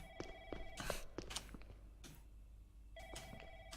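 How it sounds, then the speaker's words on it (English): A telephone rings inside the video game Hemoglobin Project, two repeated trilling bursts separated by a pause, faint and alone with scattered background clicks. "That phone is still going. That's pretty annoying."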